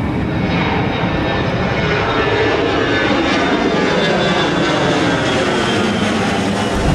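Aircraft engine noise at an airport, a steady loud broadband roar that holds evenly throughout with no breaks and no talking.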